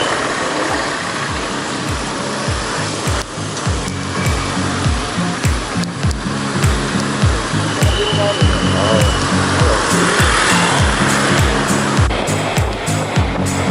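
A motorcycle cruising steadily on a long solo road tour between Depok, Surabaya and Malang, a close, continuous engine drone with pulsing gear changes, buffeted by loud, constant wind rush.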